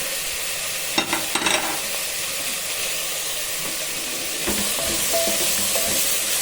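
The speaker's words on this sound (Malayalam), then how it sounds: "ഇത് ഈ മസാലകളുടെ മണം മാറുന്ന വരെ നമുക്ക് ചെറുതായിട്ടൊന്ന് ചൂടാക്കാം" Ground spices, turmeric and pepper powder among them, sizzle in a hot pan for an egg curry, a steady loud frying hiss with a few stirring scrapes near the start.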